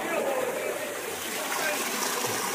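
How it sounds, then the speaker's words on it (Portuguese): Water flows steadily through a cave passage, a continuous rushing wash that fills the space, fairly loud and close, with people talking faintly beneath it. "A água vem de lá."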